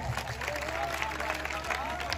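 An audience claps at a Hindi poetry recital, with brief, fairly quiet, scattered applause and some crowd murmur.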